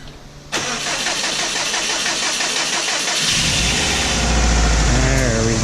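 A Subaru WRX engine, just rebuilt with a new head gasket, cranks briefly and catches, then settles into a steady, loud close idle that swells slightly in its last seconds.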